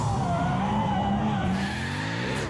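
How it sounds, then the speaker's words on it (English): A drift car slides sideways with its tires skidding and squealing in a continuous loud screech over the engine's strained drone, steady throughout at close range. "it's sliding, having fun, having a good time, making lots of smoke, making lots of noise"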